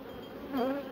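A single honeybee hums past close to a hive, a brief rising buzz that swells in the middle of a quiet moment and then fades, with a soft steady background hum and no talk.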